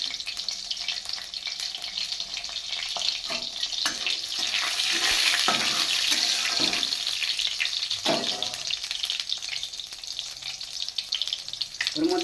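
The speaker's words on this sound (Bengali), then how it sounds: "এটা আমি পাঁচ ফোড়ন ফোড়ন দেবো ফোড়ন দেবো একটা কাঁচা লঙ্কা দিলাম ওর মধ্যে" Panch phoron and a green chili hit hot oil for a bitter vegetable chorchori, giving a steady crackling sizzle with sharp spattering pops and stirring clinks that come and go. No one speaks.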